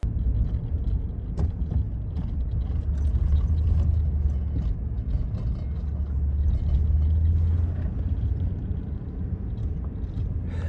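Steady low road rumble fills the cabin of a vehicle on the way to pick up coil stock. It is a continuous, even drone with faint rattles and no voices.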